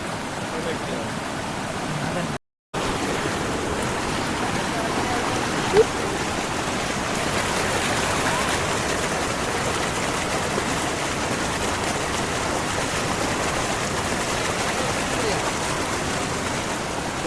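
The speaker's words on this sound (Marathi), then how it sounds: "अजून पाऊस काय चालूच आहे पाणी पण जबरदस्त झालंय" A dense, steady roar of heavy Konkan monsoon rain and rushing floodwater fills the whole stretch without letting up, loud and close.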